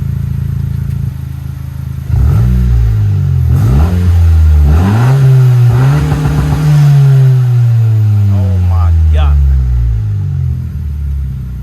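A Honda Civic Si fitted with an MA Performance race exhaust revs up close and loud, a deep rising and falling engine note swelling in several blips over a low idle, with brief speech mixed in.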